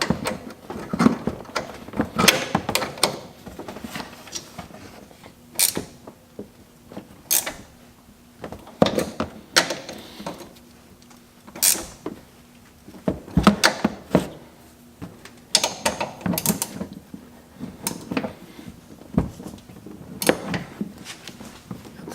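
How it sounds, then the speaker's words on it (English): An 18 mm wrench snugs the upper strut bolts during a Rough Country leveling kit install, giving repeated metallic clicks and ratcheting creaks in scattered bursts, close by and moderately loud, with no voices. "we're going to go ahead and snug up the top of the strut using the 18 millimeter wrench"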